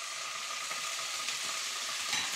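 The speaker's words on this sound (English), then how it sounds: "You can hear that sizzling." Vegetables for pad thai sizzle and hiss in a hot pan with a little water, a steady bright crackle with faint scraping stirs underneath, heard close up.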